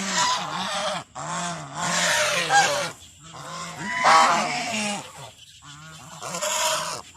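A young male goose honks loudly and close in several long, repeated calls separated by brief pauses, alone with no talk.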